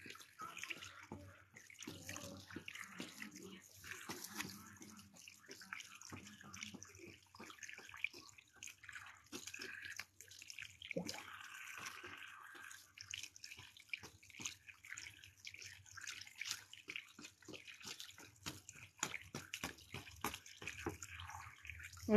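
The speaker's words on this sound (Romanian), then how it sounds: "ficiorul meu pune apă la cățel" Water is poured into a dog's bowl at home, some of it spilling beside the dish, a faint continuous trickle and splash lasting throughout with small drips.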